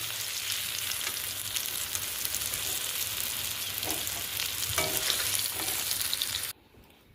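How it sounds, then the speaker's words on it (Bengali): Eggplant frying in hot oil gives a steady, loud, close sizzle with faint crackles for several seconds, then cuts off abruptly to near silence. "এবার বেগুনটা ভালো করে ভেজে নেব"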